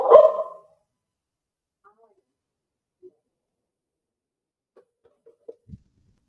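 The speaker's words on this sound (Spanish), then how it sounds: "Era mi perrito." A small pet dog gives a short burst of loud, close barks at the very start, then only faint scattered sounds follow in near silence.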